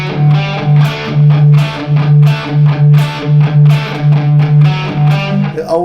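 Distorted electric guitar chugging a riff, a loud, close, rhythmic pattern of repeated palm-muted notes and chord stabs, with no talk.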